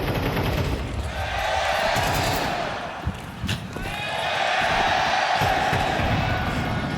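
A packed arena crowd roars and cheers steadily at a FaZe vs sAw Counter-Strike esports match at PGL Cluj-Napoca, with rumbling game gunfire mixed in and the noise swelling again after a brief dip.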